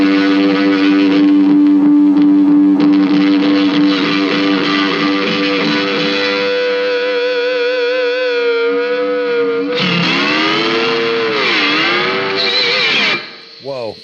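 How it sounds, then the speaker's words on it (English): A Fender Jazzmaster electric guitar played with a slide, sustained gliding notes that bend and swoop in pitch with a funky, distorted ring, loud and close, ending abruptly. "Jazzmasters ring really funky."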